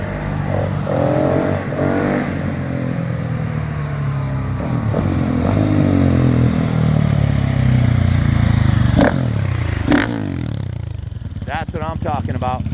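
A 2023 GasGas 700 ES motorcycle engine runs loud and close, with a sustained throaty rumble and rising revs, while people talk over it.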